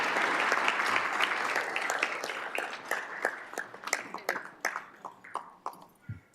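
Applause at a school district governing board meeting honoring language teachers, a dense round of clapping that thins out into a few separate, louder claps near the end.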